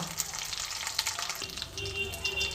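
Night jasmine leaves frying in oil with mustard seeds and dried chilli, a close, continuous crackling sizzle with small pops throughout.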